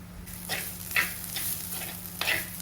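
Shallots, cloves and spices frying and sizzling in a clay pot, broken by several scraping stirs at an uneven pace, close up.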